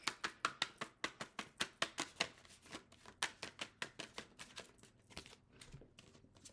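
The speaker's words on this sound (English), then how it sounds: "Okay, I'm gonna shuffle these." A deck of tarot cards is shuffled by hand, giving a quick, even run of crisp riffling taps that slows and thins toward the end, close and fairly quiet, with no talking.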